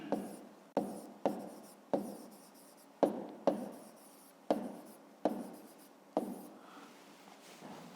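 Pen or pencil writing numbers on paper during a fifth-grade math exercise, quiet close scratchy strokes in short bursts separated by taps and brief pauses.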